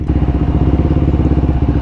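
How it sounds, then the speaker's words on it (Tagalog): A CFMoto 300SR motorcycle engine idles with a misfire, giving a loud, close, lumpy chugging with fast, slightly uneven pulses throughout. "Palyado yung motor hanggang ngayon."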